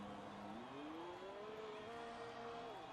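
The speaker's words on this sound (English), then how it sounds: "As we start to hear engines rumbling" A Williams Formula 1 car in the F1 2020 video game rolls up the pit lane with a faint, steady engine drone that rises smoothly in pitch and then eases back down.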